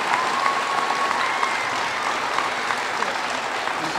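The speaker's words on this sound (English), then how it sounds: "Let's give her a huge round of applause one more time." Sustained audience applause at an awards ceremony, a dense, even wash of many hands clapping continuously throughout, with a faint voice or whistle briefly audible above the crowd.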